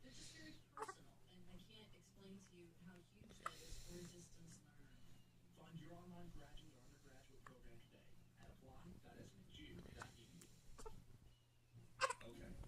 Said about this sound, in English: He always has the hiccups.